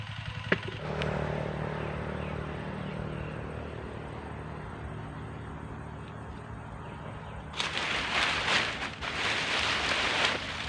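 Heavy rain falls over a durian plantation, a steady broadband rush that swells noticeably louder in the latter part, with no talking.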